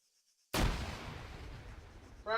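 A grenade blast in the military shooter ARMA 3 erupts suddenly out of near silence, a single loud boom whose rumbling tail decays over about two seconds before another crack begins at the end.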